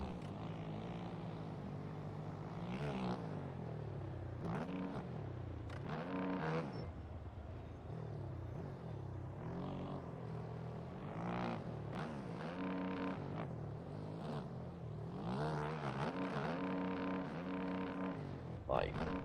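An enduro motorcycle engine held high near the rev limiter in a steady, buzzing drone that rises and dips through the ride, with someone talking over it.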